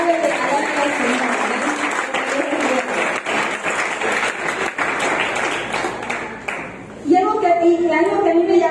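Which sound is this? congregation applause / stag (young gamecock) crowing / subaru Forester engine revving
congregation applause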